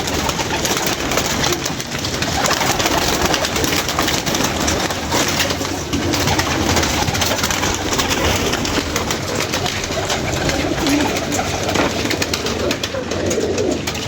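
A flock of pet pigeons coos continuously and close by, the soft throaty calls overlapping in a dense, unbroken chorus.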